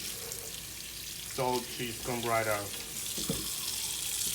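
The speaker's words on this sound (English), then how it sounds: "the hot water is taking the peel off the plantain for me" Hot tap water runs steadily over plantains in a kitchen sink, a constant rushing hiss. Someone speaks briefly over it.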